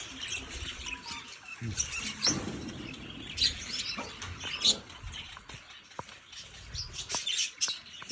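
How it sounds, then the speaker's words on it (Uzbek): Small birds chirp and tweet in short, scattered bursts against a quiet outdoor background, fairly near and moderately loud. "Qushlar"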